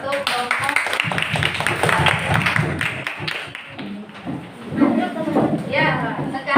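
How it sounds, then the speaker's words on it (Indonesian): A classroom of students claps for one student group: steady, dense hand-clapping in a rhythmic, patterned beat that lasts several seconds, with voices mixed in. "tepuk tangan untuk kelompok"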